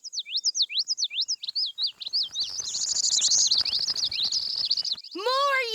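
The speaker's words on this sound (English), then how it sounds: "More yellow birds!" Cartoon yellow birds chirp in a meadow, quick repeated high tweets at first, then a denser overlapping chorus of calls, ending with a different sliding bird cry.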